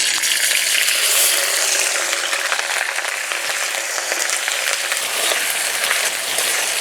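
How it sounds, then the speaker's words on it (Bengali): Onion paste sizzles and crackles loudly in hot oil left over from frying pointed gourd, with bay leaf, dried chilli and whole garam masala, while being stirred; a steady close dense hiss throughout. "পেঁয়াজ নাড়াচাড়া করে ভেজে নিলাম"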